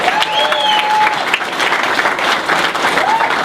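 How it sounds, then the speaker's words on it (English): Strong audience applause for a state senate candidate at a political gathering, continuous close clapping with occasional whistles rising over the crowd. "I want everybody to give Karen Testerman a round of applause."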